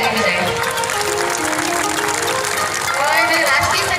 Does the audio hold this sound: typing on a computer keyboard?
no